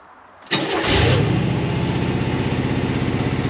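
A 1975 International 200 pickup with an automatic transmission cranks briefly and fires up, then settles into a cold, steady idle with an even, pulsing rhythm, close and clear.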